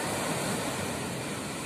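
Steady broadband wash of surf rolling onto a shore, continuous and fairly close, with no voices.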